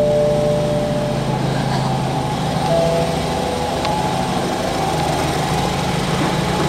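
A steady, droning small engine runs continuously next door, a rough mechanical buzz like a chainsaw idling and revving, with no voices.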